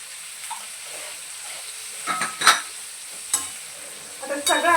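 Cluster beans with red chilli powder, Kashmiri chilli powder, garam masala and salt are stirred in a pan over low heat, a steady soft sizzle under intermittent spatula scrapes and knocks growing louder toward the end.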